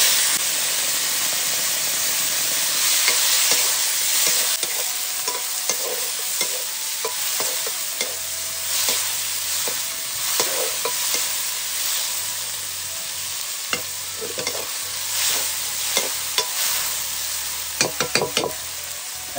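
Chopped onion and tomato sizzle and hiss steadily in a hot pan of oil while cooking for spicy noodles, with stirring scrapes and clinks of a utensil against the pan, loud and close throughout with no talking.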